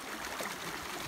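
The Eglinton River flows beside a grassy campsite in a mountain valley, making a steady, rushing wash of water with a faint gurgle. It is continuous and even, with no voices.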